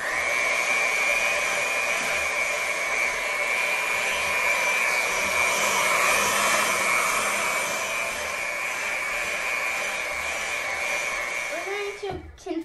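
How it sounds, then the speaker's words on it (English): An electric hand mixer whirs steadily through brownie batter with vanilla, a loud continuous motor drone that cuts off near the end. "We're going to continue mixing until it gets creamy."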